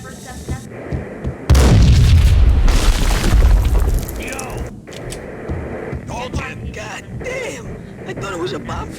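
A single loud, deep explosion in the video game Max Payne erupts and rumbles for a couple of seconds, then fades to quieter in-game sounds and voices.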